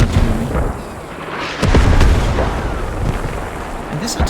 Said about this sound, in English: No, it's an artillery.